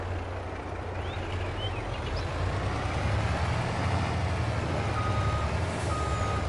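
A truck in Farming Simulator 22 reverses with a steady run of backup beeps over a constant engine rumble. The sound stays loud and close with no talking.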